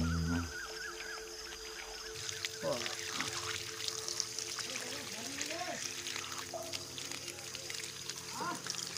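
Water pouring and trickling while toy vehicles such as a tractor, JCB, car and auto rickshaw are washed, a steady light stream with small splashes throughout, with occasional faint voices in the background.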